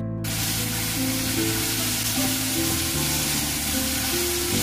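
Pork hits hot caramelized rock sugar and oil in a wok, bursting into a loud, steady sizzle that hisses continuously from start to finish, close and with no voices.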